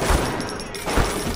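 A rivet gun fires in the BioShock video game, giving two loud, close, punchy shots about a second apart over a steady noisy background.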